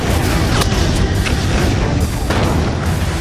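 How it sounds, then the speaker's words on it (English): Massed artillery shells striking a German target in one simultaneous hit: a dense, continuous roar of blasts, loud and close, with no pauses. "The result, all the shells land at precisely the same time."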